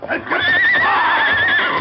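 A horse on a swampy trail gives a loud, close, wavering neigh lasting over a second, with a brief thud of hooves at the start, from an old western radio drama.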